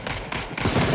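Dense, rapid gunfire in PUBG during a pro scrim fight, with overlapping automatic bursts rattling loudly and continuously for the full second, with no talk over it.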